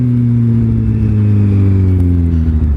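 Motorcycle ride through Boston city traffic, a loud close engine hum with steady low droning tones that rise and fall slightly as the bike rolls, with no talking.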